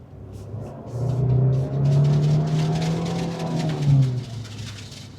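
An MG car driving a race track at a test-ride event in Pakistan hums and revs from inside, the engine tone rising and falling through gear changes over a low rumble.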